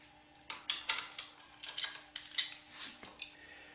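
A 10mm ratchet clicking in quick bursts while it removes a frame guard from a Yamaha WR250 motorcycle, close and fairly quiet, with a short gap midway.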